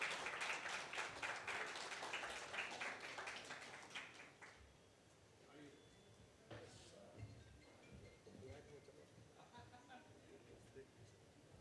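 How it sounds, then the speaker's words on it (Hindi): A crowd at a stage event, a political conclave in Bihar, claps loudly for several seconds to welcome a guest. The applause then thins out and fades while voices talk over the hall. "जोरदार तालियों के साथ स्वागत कीजिए"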